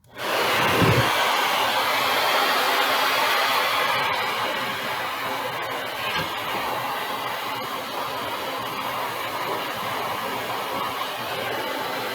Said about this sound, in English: I'm going to hit it with a blow dryer